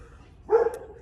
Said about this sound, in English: I apologize for the noise, but we are in the yard with the dogs.